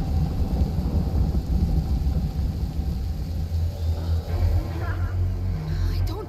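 Low rumbling thunder from a lightning strike in the video game A Plague Tale, rolling steadily and fairly loud, with rain-like noise and faint game sounds over it.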